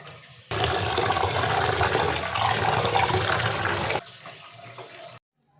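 Water gushes loudly and steadily while lentils are washed for khichuri, then suddenly drops to a quieter trickle before stopping.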